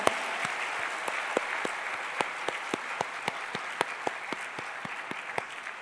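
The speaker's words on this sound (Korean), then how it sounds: "믿으신 분은 박수로 영광." A church congregation at a Liberation Day worship service claps together in a steady, even rhythm, crisp repeated hand claps filling the space for several seconds without talk.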